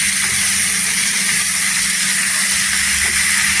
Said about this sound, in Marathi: इथे मेथी धुतलेली आहे स्वच्छ, ती टाकायची। तेलावर परतून घ्यायचं।